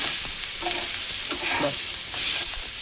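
Garlic cloves dry roast in a pan, a soft continuous sizzle with faint scraping stirs, close and steady throughout.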